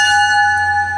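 An NJ Transit locomotive bell rings close and loud, a sustained bright metallic tone held steadily without break.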